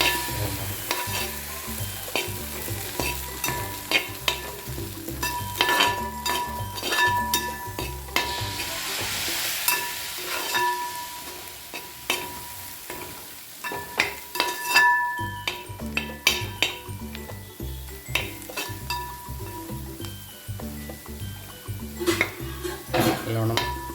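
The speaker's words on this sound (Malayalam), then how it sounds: "നല്ലോണം മിക്സ് ചെയ്യുക." Pepper chicken curry being stirred in a pan, a spoon clinking and scraping against the metal in a steady rhythm over a continuous sizzle, loud and close with no talking.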